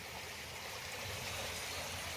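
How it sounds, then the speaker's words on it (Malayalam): Steady rushing of a small stream of clear water running over and through rock at Mailadipara, Wayanad, a continuous close babble with no talking. "പാറേൻ്റെ ഉള്ളിലാണ് ചെറിയൊരു അരുവി"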